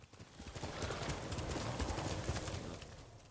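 Horse hooves clip-clop at a steady, rapid gallop in the video game Ghost of Tsushima, loud and continuous over ambient game sound.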